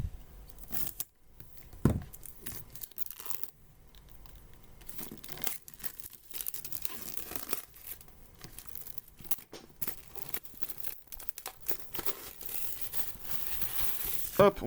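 Cardboard packaging and plastic wrap on a collector's edition of Bloodsport being cut and torn open with a knife, producing close crinkling, tearing and scraping bursts that continue almost without pause.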